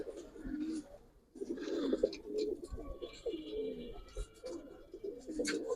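Giribaz and coloured pigeons at a pigeon farm in Bangladesh coo in low, throaty bursts, close and overlapping, with short pauses between phrases.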